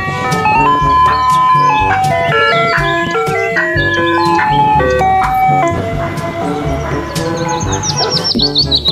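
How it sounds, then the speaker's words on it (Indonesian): A toy ice cream truck plays a bright electronic jingle, a loud tinkling melody of quick notes that runs continuously and ends in high chirping beeps. "Yang ini ada mobil es krim."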